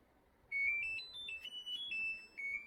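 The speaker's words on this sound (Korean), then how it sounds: "다 끝난 상태에서 이렇게 알람이 울리게 됩니다." A compact SK Magic mini dishwasher with no installation required, fresh from a wash cycle, sounds its end-of-cycle alarm: a short electronic melody of clear beeping tones in a stepped pattern, moderately loud against faint background noise.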